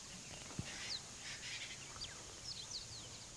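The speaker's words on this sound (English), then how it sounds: "I can hear the birds still, the Franklin making a noise." Francolin calls in African bush near a sleeping cheetah, faint and distant, with a few short chirps and upward whistles over a steady insect hiss; no voices.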